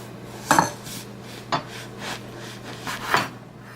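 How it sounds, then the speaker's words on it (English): A very sharp knife without serrations slicing through bread for croutes on a board: three or four distinct crisp crunching strokes with soft rasping between them, close and fairly quiet. "It's a very sharp knife, and even without the serrations, it will cut through this bread quite nicely"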